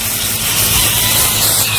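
A steady, forceful hiss of water spraying from a hose onto a horse, close and continuous throughout.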